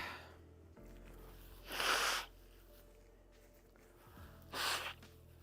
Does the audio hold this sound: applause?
no